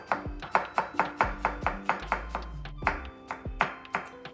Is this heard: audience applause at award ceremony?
no